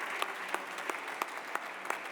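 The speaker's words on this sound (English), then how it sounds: "Big round of applause for our panelists." Audience applause for panelists at a carbon markets conference, soft steady clapping from a crowd with a few sharper, louder individual claps standing out at regular intervals.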